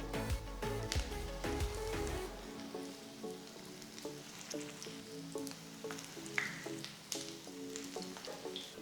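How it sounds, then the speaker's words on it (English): Aloo paneer patties shallow fry in hot oil in a pan, a close crackling sizzle with scattered pops and spits over a soft background hum that drops away after the first couple of seconds; no voices. "Once the oil is hot, gently place the patties."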